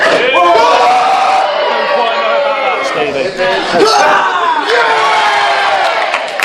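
Loud, dense wrestling crowd at a live match cheering, whooping and bellowing continuously throughout, a roaring mass of voices with scattered shouts rising above it.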